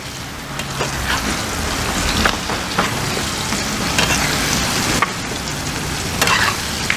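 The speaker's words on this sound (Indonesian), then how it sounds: "Ini biasanya kita numisnya cukup lama ya." Gulai spice paste sautéing in a pan while being stirred: a steady loud sizzle and crackle with scraping strokes of a long spatula at intervals, no voices over it.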